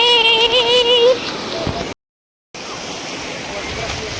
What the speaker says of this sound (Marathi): आणि लाटा बघा कशा आहेत. लाटा बघा.